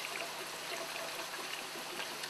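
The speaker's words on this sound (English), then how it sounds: "I'm going to slowly add in my milk, whisk it in, and just slowly" Milk is poured slowly into a flour roux while it is whisked, giving a steady hissing trickle of liquid with a faint, soft stirring texture throughout.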